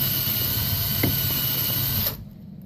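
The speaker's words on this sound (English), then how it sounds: "with the attachment for the drill, it reams the outside, and now I'm trimming it down the length" A small power drill with a reaming and trimming attachment whirs steadily for about two seconds on a .257 Bobcat brass case, then cuts off abruptly, leaving near silence.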